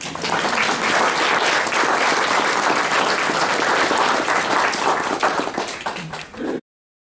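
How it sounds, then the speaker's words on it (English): Steady, full audience applause at a story hour gathering, dense clapping from many people held at an even level for several seconds before stopping abruptly. "let's give her a round of applause"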